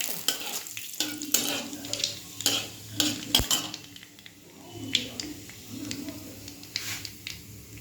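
Nigella seeds and a bay leaf fry in hot oil, a steady soft sizzle broken by frequent metal clinks and stirring scrapes of a utensil against the pan, close and moderately loud, with no one talking.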